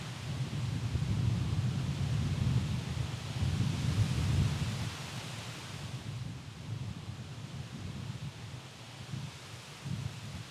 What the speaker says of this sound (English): the wind remained, shaping waves in the meadows of Strynö as much as on the sea